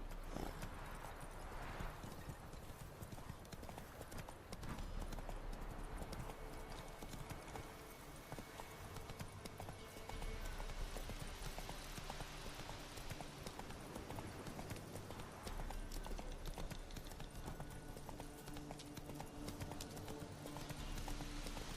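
Roach, a horse in The Witcher 3, gallops with rapid rhythmic hoofbeats that run steadily and fairly close, with faint creaks and ambient game sound underneath throughout.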